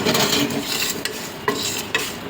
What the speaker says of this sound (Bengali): সাদা সর্ষে দিলাম, দিয়ে মশলাটাকে একটু ভেজে নেবো ভালো করে।